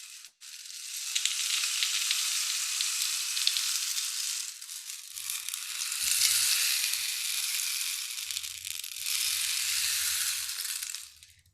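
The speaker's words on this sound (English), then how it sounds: "Another thing I have here is this rain stick." Bamboo rain stick filled with seeds and cactus spines, tipped slowly so a continuous hissing cascade of tiny pattering grains washes in long rising and falling waves, close and fairly soft, alone.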